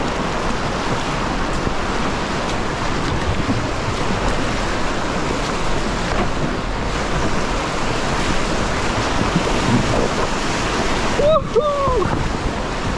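Whitewater rapids on the Shenandoah River rush in a loud, continuous roar around a kayak, with wind buffeting the microphone and a brief whistle-like cry near the end.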